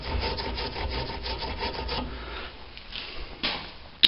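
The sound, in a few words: scrubbing a soaking 1962 Cadillac part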